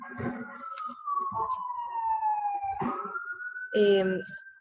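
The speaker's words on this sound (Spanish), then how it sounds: "lo siento, va pasando una ambulancia" A passing ambulance siren, wailing tones sliding down and up across several seconds, fairly clear with a voice speaking intermittently underneath.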